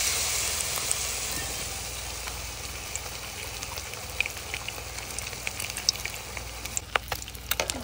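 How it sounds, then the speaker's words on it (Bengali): Gram-flour-coated egg kebabs fry in hot oil with a dense, steady sizzle and hiss, growing crackly pops toward the end, close and alone. "এবার তেলে দিয়ে দেব, গরম তেলে।"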